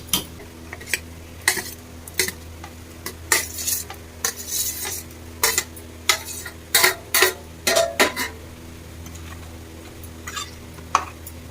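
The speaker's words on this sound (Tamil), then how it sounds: "இப்போ மசாலா நல்லா கொதிச்சு ரெடி ஆயிடுச்சு" Metal utensils scrape and clink against a pan of simmering paneer masala in repeated bursts over a low steady background hum, with no voices.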